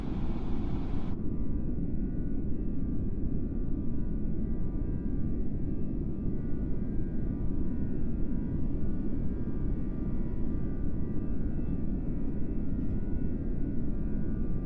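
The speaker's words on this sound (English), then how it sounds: "we'll go sit in the back and listen at the engines" Airbus A321 jet engines droning steadily as heard from the rear cabin in Flight Sim Labs flight simulator game, a loud continuous low roar with a faint steady whine, with no talk.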